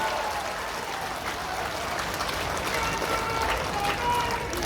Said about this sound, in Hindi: तालियों की गड़गड़ाहट से स्वागत होनी चाहिए।